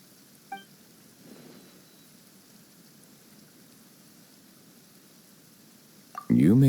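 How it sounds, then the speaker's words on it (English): Sudden rain in a Genshin Impact cutscene falls as a faint, steady patter and hiss, with one small tap early on and a loud, abrupt burst of sound cutting in at the very end. "Why is it raining all of a sudden?"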